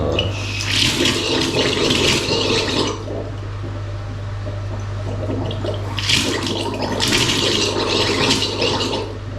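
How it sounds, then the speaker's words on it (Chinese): Hot water runs steadily from a tap into a heater tank with a constant rushing flow, swelling louder in two surges near the start and end, under a low hum. "这个是热水哦，先开热水给它装先啦"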